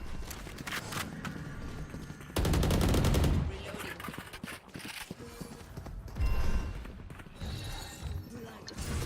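Gunfire in a tactical shooter video game rattles in fast bursts near the market area, with a loud sustained volley partway through and quieter shots around it, as a player talks over the action.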